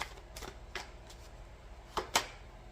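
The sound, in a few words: shuffling cards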